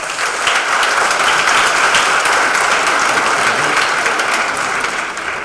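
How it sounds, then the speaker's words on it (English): Loud, sustained applause from an audience greeting a speaker at a talk on how fears can fuel performance, dense and even clapping filling the whole stretch without voices. "Please give a huge round of applause for Mr. John Ferris"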